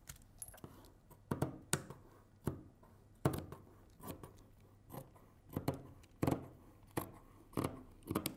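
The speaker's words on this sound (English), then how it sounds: "I'm cutting the back." Sharp scissors cut the back piece of a summer dress made from cutwork-embroidered fabric: a quiet, close series of about fifteen crisp snips at an uneven pace, with faint handling noise between them.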